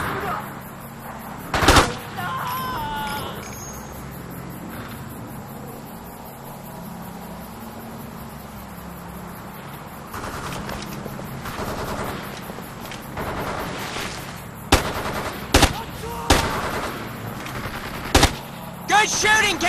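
Bursts of automatic gunfire from the Xbox shooter Ghost Recon 2 during a hard-difficulty train yard assault, with sharp cracks early and a flurry of loud shots near the end over a steady battle din and radio-style voices.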